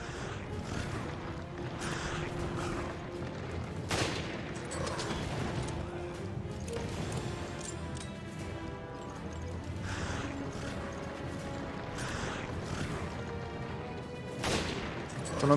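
Sharp gunshots in the video game Resident Evil Revelations ring out one at a time at irregular intervals, with mechanical clicks and rattling between the shots.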